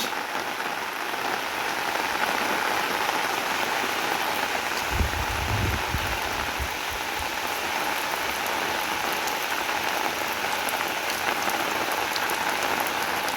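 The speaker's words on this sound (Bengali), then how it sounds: "দেখেন অনেক বৃষ্টি হইতেছে" Heavy rain pours down steadily and evenly throughout, a dense hiss of drops with a brief low thump midway.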